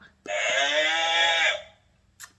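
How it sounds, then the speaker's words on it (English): A toy buzzer blares a single loud, electronic bleating farm-animal cry lasting over a second, followed by a short click. "there's a very loud, obnoxious farm animal sound that comes out of this buzzer"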